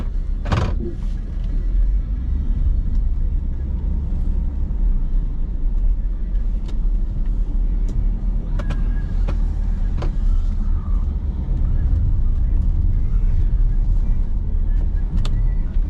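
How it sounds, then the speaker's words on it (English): A snowplow truck's engine idles at close range, a loud, steady low rumble that holds constant throughout with a few faint clicks and knocks on top. "Whenever I'm done plowing with one of these vehicles, I like to let it sit and just idle for a little while"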